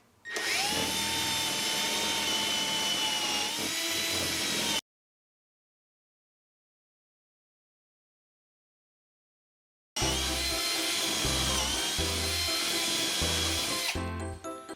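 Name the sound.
drilling holes with Beadlock joinery jig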